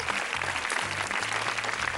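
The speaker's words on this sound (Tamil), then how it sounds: "நல்லா கைத்தட்டல உங்களுக்கு." Applause from a Tamil game-show studio audience for a contestant, steady dense clapping filling the whole stretch, loud and continuous with faint talk underneath.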